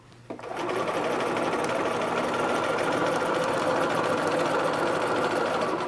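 Sewing machine running long gathering threads through fabric, starting after a brief quiet moment and then holding a loud, even, fast mechanical whir to the end.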